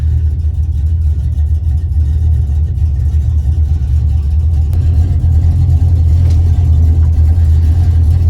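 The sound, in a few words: 1978 El Camino 357 small-block V8 idling while warming up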